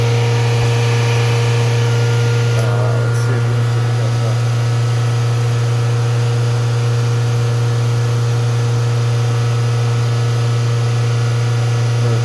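A 2018 Honda Accord 1.5L turbo that stalls and runs rich drones close and steady at a constant pitch while running, loud and unbroken throughout, with no talking.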